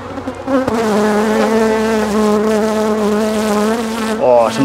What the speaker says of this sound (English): Right, so I'm not going to disturb these bees anymore.